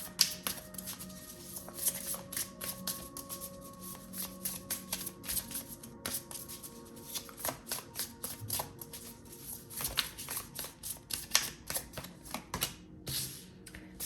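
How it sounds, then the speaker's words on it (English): Tarot cards are drawn and handled up close, giving a quiet run of crisp flicks, slides and taps in uneven bursts, with no talking. "Let's pull 3 more cards"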